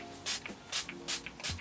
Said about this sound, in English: spray the face with a makeup fixing spray